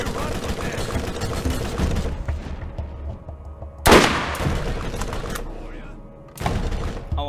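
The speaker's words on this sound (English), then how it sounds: "we're just throwing grenades back and forth" Grenade explosions and gunfire in the shooter game Borderlands: sustained rattling fire gives way to a loud, sharp blast near the middle, then a decaying tail before another burst of shooting returns at the end.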